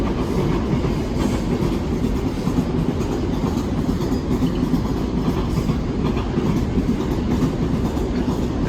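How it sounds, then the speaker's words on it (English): Fully loaded Freightliner freight train passing Barking, loud continuous rumble of wagons with rhythmic wheel clatter running steadily close by. "A very full loaded Freightliner service, that's for sure."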